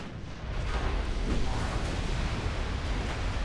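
Battleship guns firing in the naval warfare game Ultimate Admiral: Dreadnoughts, heard as a dense, continuous low rumble of distant booming salvos that swells after a quiet start and holds steady with no voices.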